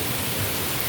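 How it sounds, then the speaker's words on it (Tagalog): A dense, steady roar of heavy downpour fills this brief moment, constant and close, with no voices. "Ang lakas ng ulan, oh."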